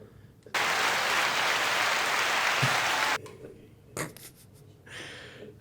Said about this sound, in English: Let's get a crowd reaction real quick.